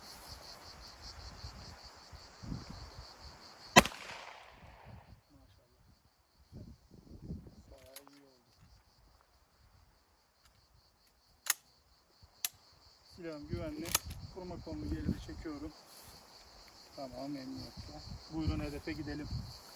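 A rifle fires a single 22-gram slug outdoors, one sharp, loud crack with a short ringing decay over chirping crickets, followed by scattered clicks and people talking.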